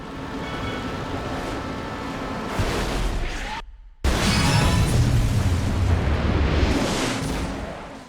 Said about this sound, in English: you can choose to use up whatever boost you have left to create an explosion that could potentially net you a takedown